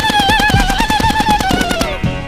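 Rapid gunfire in a movie scene, a fast regular burst of shots like a machine gun, loud and close, mixed with a sustained tonal backing sound and no talk over it.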